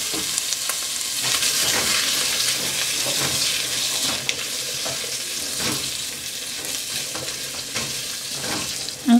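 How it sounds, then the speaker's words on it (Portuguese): Calabresa sausage fries in a spoonful of pork lard for cuscuz farofa, a close, continuous crackling sizzle with occasional stirring scrapes and no talk. "agora eu vou fritar aqui a calabresa"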